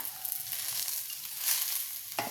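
Vegetables frying in hot oil give a steady close sizzle with soft crackle throughout, and a brief stirring scrape near the end.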